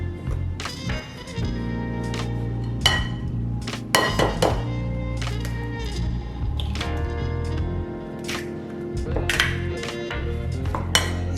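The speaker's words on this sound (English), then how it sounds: "I'm gonna put in 3 eggs, but what I'm doing is I'm gonna stir a little between each egg." Eggs cracked into apple cream cheese bundt cake batter and stirred in a bowl between each one, giving repeated close thunks, knocks and wet squishes against the bowl with clinks of a utensil, steady and fairly loud.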